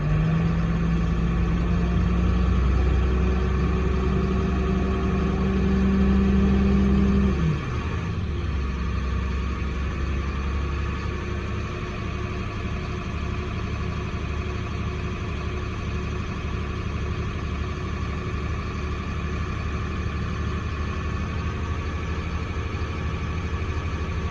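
A heavy truck's engine idles steadily while building air brake pressure, starting with a louder rumble that drops to a quieter, even idle hum and holds for a long stretch.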